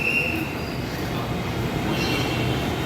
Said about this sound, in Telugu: ఇదిగోండి, మెట్రో ట్రైన్ ఒకటి వచ్చింది.